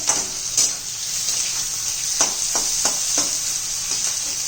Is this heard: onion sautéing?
yes